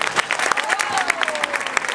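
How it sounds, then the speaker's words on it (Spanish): Audience applause greeting a woman being introduced at an event, a short burst of scattered claps with a bright tone running faintly underneath and some voices mixed in. "le pido un fuerte aplauso"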